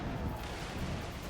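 Ship cannons fire during a naval battle in the game Assassin's Creed IV: Black Flag, a brief, dense rumbling boom that fills the whole moment without a clear gap.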